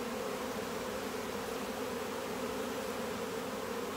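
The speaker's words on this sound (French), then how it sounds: "J'ai environ 150 abeilles à l'intérieur." About 150 honeybees confined in a varroa-testing container hum with a steady, dense, close drone that holds unbroken throughout.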